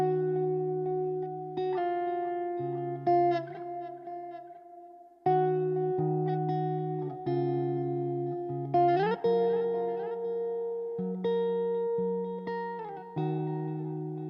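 Polychrome DSP Nunchuck amp sim on guitar with a ping-pong delay added, clean sustained chords and picked notes ringing out with repeating echoes trailing each strum, steady and close throughout.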